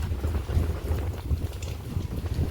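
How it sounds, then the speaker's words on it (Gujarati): Outdoor wind blows during light, steady rain, a continuous low gusty rumble with buffeting on the microphone that rises and falls throughout, no voices. "પવન કેવો છે જો."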